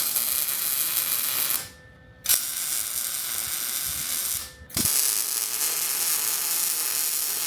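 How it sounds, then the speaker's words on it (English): Steel bumper tubing for a Ford E350 rear bumper worked in a tube bender, a loud, steady mechanical ratcheting drone broken by two short pauses, close up with no talking. "So now I need to get this piece back into the bender and bend those ends."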